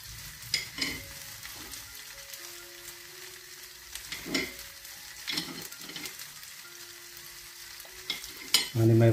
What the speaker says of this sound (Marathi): आणि मागीर बरे आमी ते अशें स्टर करूया.